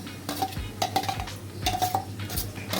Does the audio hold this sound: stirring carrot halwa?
yes